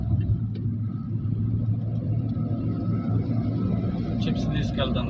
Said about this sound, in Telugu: అదిగోండి లారీ